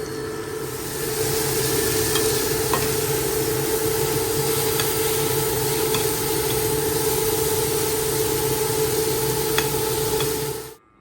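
Onions sizzle and crackle steadily in a hot pan, a constant frying hiss over a low, even hum.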